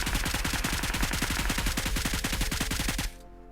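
Rapid automatic gunfire from the video game PUBG, a loud, steady stream of evenly spaced shots lasting about three seconds that cuts off sharply into quiet.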